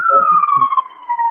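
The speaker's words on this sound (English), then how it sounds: "here a siren in the background" An emergency siren wails steadily in the background, a single sustained tone sliding slowly downward, while someone talks over it during a lecture.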